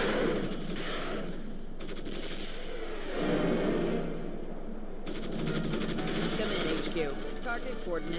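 Rapid gunfire from Starship Troopers: Terran Command, a dense continuous rattle of automatic shots and bursts filling the whole stretch, with distant voices mixed in.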